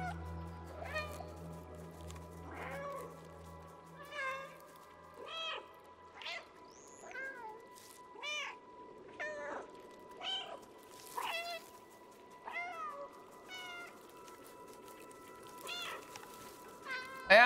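The cat character in the video game Stray meows again and again, short bright mews spaced every second or so at a steady rhythm over a quiet game background, with faint low music at the start.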